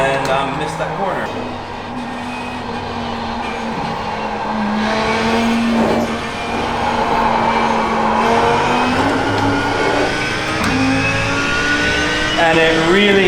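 Audi race car engine roaring steadily in a racing simulator game, holding a continuous loud drone that rises and falls with acceleration over the whole stretch, with faint voice underneath.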